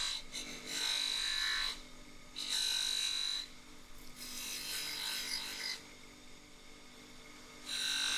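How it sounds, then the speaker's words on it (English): A polishing machine buffs a metal bullet case to take out 180-grit scratch marks, making a steady rasping whir in three loud bursts separated by quieter stretches, with no talk. "Onto the polisher. Take out the scratch marks from the 180 grit."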